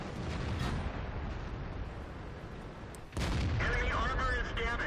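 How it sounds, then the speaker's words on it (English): Artillery in the tank game World of Tanks booms out in heavy blasts, one early and a louder one partway through, over ongoing battle noise, with game voice lines audible. "Got to watch out those artillery shots."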